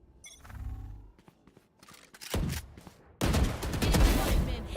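Gunfire in the battle royale game BGMI during a headshot kill: a few scattered clicks and shots, then loud bursts of rapid automatic fire that build into a dense, continuous volley near the end.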